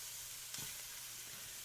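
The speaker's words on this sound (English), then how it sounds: "just kind of gently saute these until they get tender and cooked all the way through" Sawgill mushrooms sautéing gently in a pan give off a soft, steady sizzle, faint and close, with a light scrape or stir partway through.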